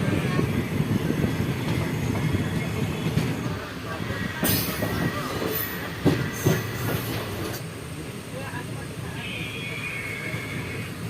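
Gour Express passenger train pulling into Kadul station on the Balurghat–Malda line, a steady low rumble of rolling coaches with brief squeals and clanks midway and a faint high whine near the end.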